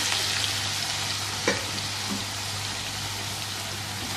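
Black pepper chicken karahi frying in hot oil: a dense, steady sizzle close up, with a single sharp scrape partway through and a faint low hum beneath.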